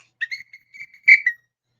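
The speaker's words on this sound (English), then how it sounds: "here comes a little red whistle" A series of short, bright whistle toots, ending in a louder, longer blast, with brief gaps of silence between them.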